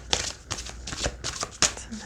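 Tarot cards being shuffled by hand during a reading, a series of crisp riffling bursts about every half second, close and fairly soft, with a faint voice underneath.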